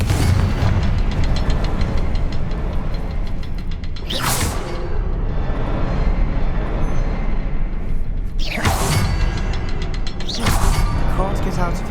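Confringo fire spells explode in Hogwarts Legacy: three sharp, loud booming bursts spaced apart, each a brief broadband blast over a dense, busy game soundscape of rumbling and clattering.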